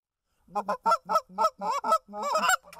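Geese honk on a rainy, gloomy day. Close, loud calls come in a quick series of about eight honks, ending in a longer call, with no talk.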